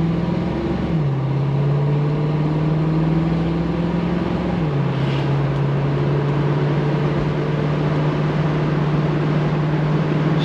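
A 1967 Chevy Camaro convertible drives along at about 50 mph, its exhaust a steady droning hum with a drop in pitch at each gear shift and steady road noise throughout.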